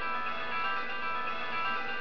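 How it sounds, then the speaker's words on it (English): A new mobile phone plays its ringtone music, a steady tonal electronic melody that fills the room continuously, fairly loud and close, with no talk over it. "Oh, this is the new phone. Look how it sounds."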